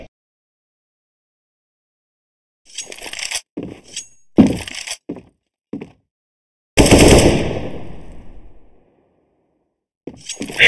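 Loud close gunfire from the video game CS:GO arrives in bursts of rapid shots and single cracks separated by silences, with one long echoing blast around the middle.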